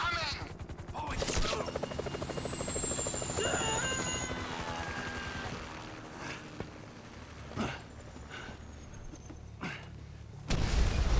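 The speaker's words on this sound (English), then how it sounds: "Can you hear that? Chopper!" A helicopter's steady rotor drone fills the scene in Grand Theft Auto V, mixed with scattered gunfire bursts and sharp impacts, while a character shouts briefly over the noise.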